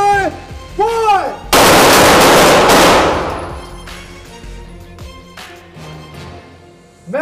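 Loud, close gunfire bursts ring out after a shouted firing command, with a dense roar of shots lasting over a second that fades into echoing rumble, with commands spoken before and after.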